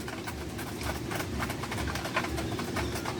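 Racing pigeons peck at feed, a rapid irregular patter of many small taps over a steady low rumble, close and fairly faint, with no talk.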